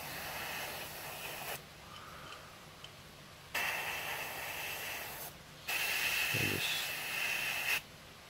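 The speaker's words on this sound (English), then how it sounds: "just sort of spray down from the top" Aerosol can of SMS olive and duck egg green paint spraying onto a model kit, three steady hissing bursts of about a second and a half to two seconds each, separated by short pauses, close and moderately loud.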